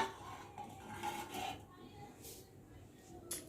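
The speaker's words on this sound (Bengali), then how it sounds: "এই যে দেখো বাটিও এনে রেখেছি আর এই যে থালাটা দিয়ে ঢেকে রেখেছিলাম" A bowl and the plate covering it are handled, making faint, close clinks and rubbing scrapes of dishware in a quiet room.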